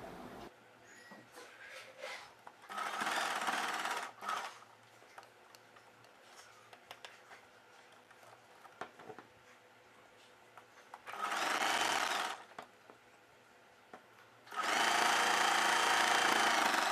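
A domestic sewing machine stitches a folded blouse edge in three loud, steady bursts of about one to three seconds, separated by quieter gaps of handling and faint ticking.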